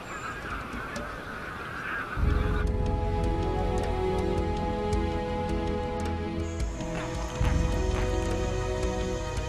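A dense flock of magpie geese honks continuously at a wetland where saltwater crocodiles live, many overlapping calls close and loud over a steady background, with no talk.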